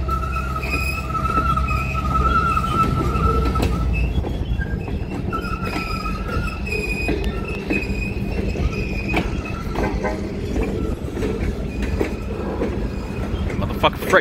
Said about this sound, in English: Motherfucking freight train, baby.